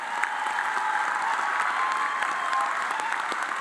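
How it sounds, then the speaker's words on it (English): A dense, continuous round of audience applause for the graduates at a Class 22 academy graduation ceremony, loud and even for its whole length with no talking over it. "if we could give all of them a nice round of applause to close it out"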